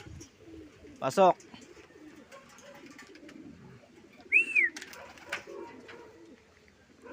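Pigeons coo and call outdoors in two short bursts, one near the start and a louder one midway, heard under background noise with a person speaking briefly.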